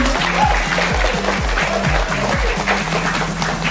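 An audience claps together at a startup business presentation, a dense steady applause at close range, with a low tonal voice or music line running underneath.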